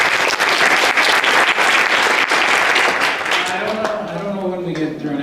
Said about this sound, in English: So another big round of applause for Brent and staff.